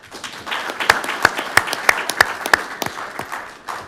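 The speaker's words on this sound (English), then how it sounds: "How about a round of applause for that?" An audience at a city council meeting applauds, with a few sharp nearby claps standing out from a softer spread of clapping that builds and then continues steadily.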